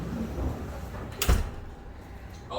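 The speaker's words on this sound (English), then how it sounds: "Should I shut this door?" A door thuds shut once in a dyno shop with a Corvette C6 ZR1, a single muffled close heard over low background noise with no talking.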